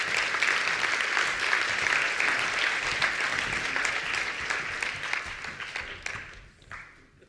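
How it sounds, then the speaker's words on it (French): An audience applauds to welcome presenters at an evening launch event, steady dense clapping from a full room that carries on for several seconds, then fades and stops near the end. "On les applaudit."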